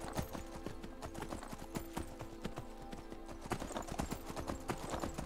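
A unicorn ridden in a fantasy video game clip-clops at a quick, steady gait, its hoofbeats crisp and close over a sustained musical background.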